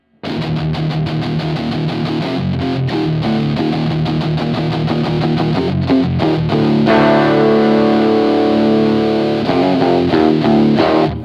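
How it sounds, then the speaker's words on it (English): A clean looped electric guitar riff with the Kemper direct mix turned up, loud and close, with clear picked notes and chords repeating in a steady rhythm and a sustained ringing chord near the end, with no talking. "You're just going to hear the original looped guitar here."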